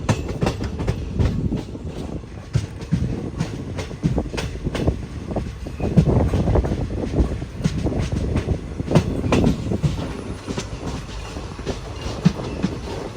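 The Mangaluru Express from Ernakulam arrives at Nileshwar station, heard from inside a sleeper-class coach as a loud, steady rumble with rhythmic clickety-clack of wheels over rail joints and a faint squeal, with no voices.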